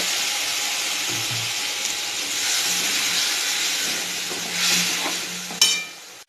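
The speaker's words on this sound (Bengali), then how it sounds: "এর মধ্যে আমি অল্প জল দেবো মশলাগুলো কষানোর জন্য" Water added to fried spices in a hot pan sets off a loud, steady sizzle and hiss of steam, swelling briefly near the end before a sharp crackle, with no talk.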